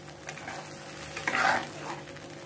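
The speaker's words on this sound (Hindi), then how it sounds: "साथ ही साथ आप डालिए इसमें हल्दी पाउडर और इसको मिला लें।" A spoon stirs shorputi fish curry in a pan just after turmeric powder goes in. Soft scraping and light sizzling carry throughout, with a louder swirl near the middle, and no talking.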